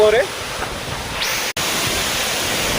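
Water tumbling down from a height at a waterfall, a steady broadband rush that fills the whole clip with a brief dropout midway; a voice is heard briefly at the start.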